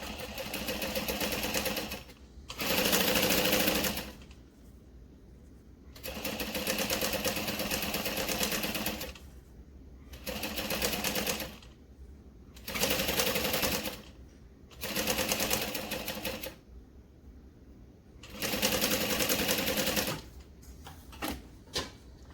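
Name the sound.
sewing machine basting fabric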